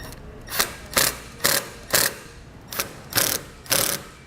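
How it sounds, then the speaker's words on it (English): Self-tapping screws driven into the base plate of a trailer wiring socket with a power driver, making seven evenly spaced, loud ratcheting bursts about half a second apart. "So we'll secure it to the prongs of our base plate with the self-tapping screws that came with our base plate."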